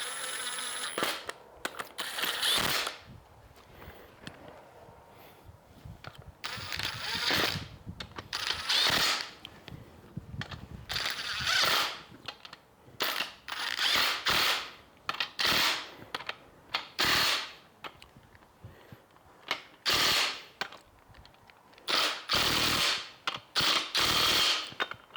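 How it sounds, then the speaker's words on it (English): A big-block engine's two-bolt main cap bolts are tightened with a ratchet and the crankshaft is turned, giving bursts of ratcheting clicks and metallic clunks separated by short pauses, close and fairly loud with no talking. "every time I tighten the cap down a little bit, I like to turn the crank some"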